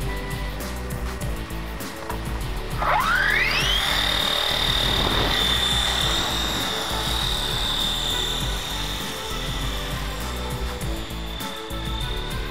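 An experimental single-blade NOTAR RC helicopter with half a rotor blade spools up with a rising whine that settles into a loud, steady high-pitched drone. The pitch shifts slightly as the throttle is worked during torque turns.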